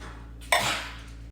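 Ham and chickpeas drop into a big cooking pot with a single soft clattering thud over a quiet background hum.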